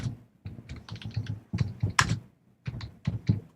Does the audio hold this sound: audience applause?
no